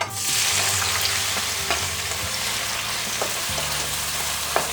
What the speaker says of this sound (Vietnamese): Sau khi mà cái dầu của mình nó đã sôi rồi thì mình sẽ cho phần cà chua vào nha.